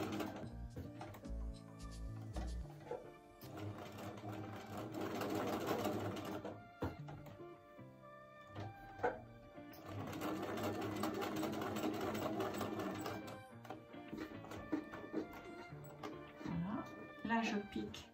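A sewing machine stitches around the outline of a small fabric heart in two long, rapid mechanical runs with a pause between them. A quieter patch of sound follows near the end, with soft indistinct voice present.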